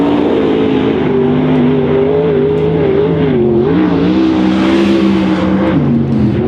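A 410 sprint car laps Silver Dollar Speedway, its engine roaring loud and constant with pitch swinging up and down through the turns, and no voices over it.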